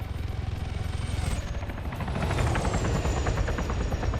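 An OP4 helicopter in a military video game thuds with steady rotor chop while rapid gunfire crackles around it, dense and loud throughout, growing heavier partway through.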